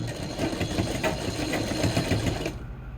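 A sewing machine stitches a dart in fabric with a rapid, steady mechanical chatter up close, then stops abruptly near the end.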